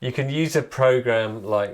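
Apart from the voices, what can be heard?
No everyday noise stands out behind the speech.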